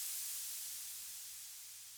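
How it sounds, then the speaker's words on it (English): A white noise riser from a Serum synth preset in a drum and bass track, a soft airy hiss heavy in the highs that gradually fades, faint and alone. "So it's a Serum preset, white noise."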